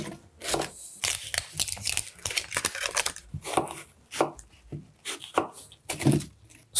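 A kitchen knife chops a vegetable into large pieces on a board for homemade bone broth, giving a quick series of sharp, close, irregular thuds and knocks.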